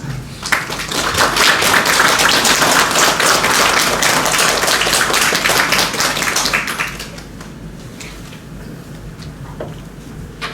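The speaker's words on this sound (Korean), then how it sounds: "우리 이런 마음으로 박수로 맞이하도록 하겠습니다." A church congregation at a Sunday service claps for the pastor coming forward, loud dense applause for about seven seconds that then thins out abruptly to scattered quieter sound.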